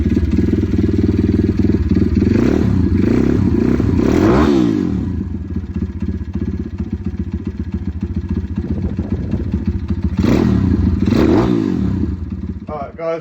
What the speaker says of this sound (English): first thing you want to do is warm up your bike and your engine so your oil gets filling when it gets hot